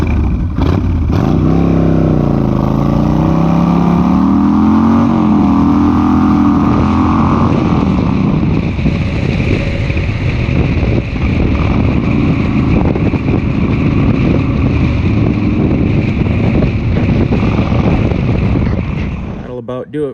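2007 Kawasaki Mean Streak motorcycle accelerating hard from a standstill, one loud continuous engine run rising in pitch through the gears, with wind buffeting the microphone and a voice briefly audible.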